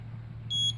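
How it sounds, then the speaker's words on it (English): A single short electronic beep from the learning button on an RF amplifier remote receiver, followed by a second, faint and clean above a steady low hum. "two beeps,"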